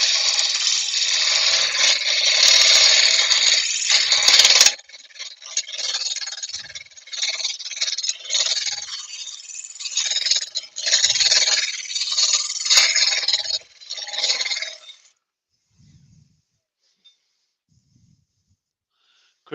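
Wood being hollowed out, bursts of harsh, close scraping from a cutting tool with short pauses between, then trailing off into near silence.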